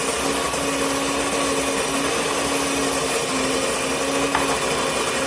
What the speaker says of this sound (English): it smells good too as it's grinding